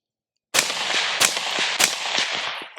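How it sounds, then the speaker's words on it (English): Three sharp suppressed 5.56 rifle shots through a Zero line 7mg suppressor on a KK Industries hub mount, fired outdoors at an uneven pace with echoing tails, loud and close after a moment of silence. "KK Industries hub mount on the Zero line 7mg can 556. All right, do a few rounds."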